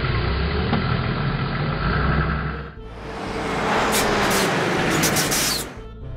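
A pink toy tow truck's engine sound, an idling rumble for a few seconds that shifts into a louder, hissing roar before cutting off near the end.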